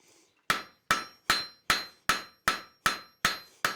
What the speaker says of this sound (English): Now I have to forge all those little dings out of there.